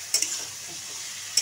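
Potatoes with a little water, coriander, chili and turmeric powder are sautéed in a pan. A quick pair of spatula scrapes is followed by quieter sizzling, then another scrape at the end, close and without speech.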